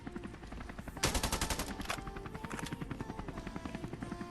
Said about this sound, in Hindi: यहाँ पर मेरे को एक हेलीकॉप्टर का साउंड आता है